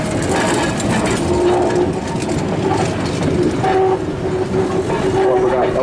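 A vintage trolley car rolls along rails toward the listener, a loud steady rumble with wheel squeal and rail clatter, plus faint birdsong in the background.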